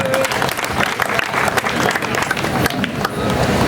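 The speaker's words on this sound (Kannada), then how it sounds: "ಚಪ್ಪಾಳೆ ಹೊಡ್ರಿ ಎಲ್ಲರೂ." A dense crowd applauds continuously at a film poster and trailer launch during a festival, loud sustained clapping with faint voices mixed in.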